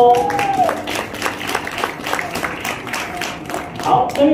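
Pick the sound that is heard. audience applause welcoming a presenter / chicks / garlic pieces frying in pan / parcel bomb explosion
audience applause welcoming a presenter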